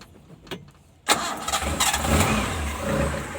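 After a couple of faint clicks, a 1996 Daihatsu Espass 1.3-litre engine cranks and catches abruptly, then settles into a steady rumbling idle nearby.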